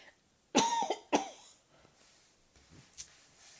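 A woman coughs twice in sharp, loud bursts close by, followed by a few fainter throat sounds and a small catch of breath in an otherwise quiet room.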